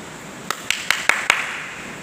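A church audience claps during a sermon on Jonah: five sharp, evenly spaced claps ring out close and crisp against a quiet room, with no talk over them.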